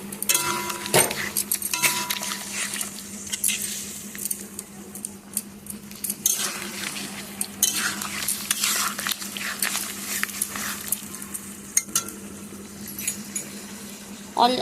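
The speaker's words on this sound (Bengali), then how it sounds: "এবার চাল গুঁড়োটা দিয়ে নাড়াচাড়া করে বেশিক্ষণ লাগে না" Rice flour is stirred into ash gourd in a frying pan, giving a continuous close sizzle with repeated scraping and clattering of a utensil against the pan throughout.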